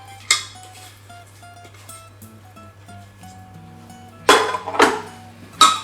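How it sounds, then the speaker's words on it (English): Honey, nut butter and dates being mixed into a granola mixture in a bowl, with a few sharp spoon-on-bowl clinks and scrapes, mostly near the end, over quiet background music. "we're going to mix the two together. So you're going to mix in all the wet ingredients."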